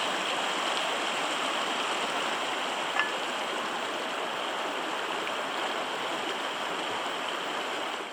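Steady rushing flow of a mountain creek in Whitehorse Wildlands Park, an unbroken close burble and hiss over rocks, with a single small click midway and no talking.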